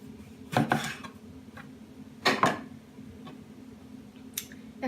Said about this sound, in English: First eggplant. I'm going to trim the end.